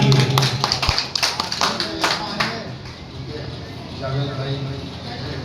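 An audience at a Hindi-Urdu poetry recital breaks into applause, with bursts of claps in the first half that thin out and then swell again more softly, while someone speaks over it.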